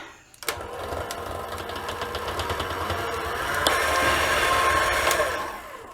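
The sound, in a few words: mixer beating brownie batter with milk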